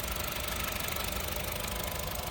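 A small Honda Jazz engine idles in the rain with a steady rough chugging and rattling vibration, close and continuous throughout, with no voices.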